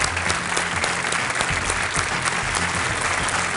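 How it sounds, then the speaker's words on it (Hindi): A studio audience at the KBC quiz show gives sustained, loud applause welcoming a contestant, a dense, even wash of clapping throughout. "आइए, तालियों के साथ इनका स्वागत।"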